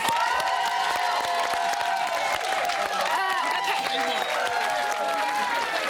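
Steady applause from a studio audience at a reality show eviction, dense clapping with some cheering throughout, loud and continuous.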